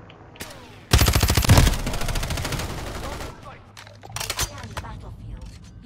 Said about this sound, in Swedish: Ser fan inte var skotten kommer ifrån.